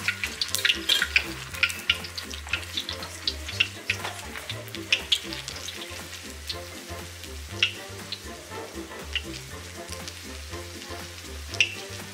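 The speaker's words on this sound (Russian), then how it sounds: "Закинули луковицу, чтобы прокалить масло. И луковица отдаст свой аромат маслу." Onion frying in hot oil in a kazan sizzles and crackles steadily with occasional bright pops over a low, continuous fry, and a faint voice is heard.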